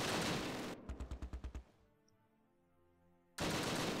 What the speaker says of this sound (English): Maybe the Wolverines have 50 cals on them, because that sounds pretty beefy what they're shooting with